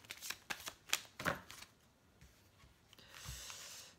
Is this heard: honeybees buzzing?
no